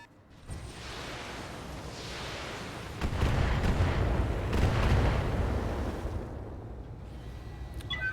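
Mech weapons fire in the video game Battletech, a sustained rumbling barrage of booms and blasts that swells louder partway through and then trails off.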